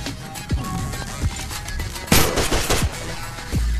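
Enemy gunfire in the VR shooter Stride VR: a few sharp shots spaced across the span, with one louder burst of fire near the middle, set against a busy game soundtrack.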